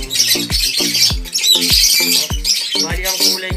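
A slate-colored bird squawks and chirps repeatedly and loudly nearby in Cabuyao, Laguna, over a steady rhythm of deep thumping pulses.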